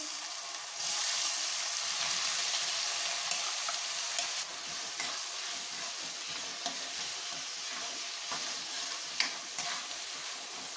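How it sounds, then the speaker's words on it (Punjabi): Onions frying with cumin seeds in a pan for a tinda curry: a continuous bright hiss and crackle with occasional stirring scrapes, close and steady, no talk. "ਪਿਆਜ਼ ਪਾ ਦਾਂਗੇ ਹੁਣ"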